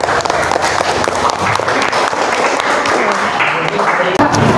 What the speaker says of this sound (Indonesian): Jadi kita beri tepuk tangan untuk kita semua.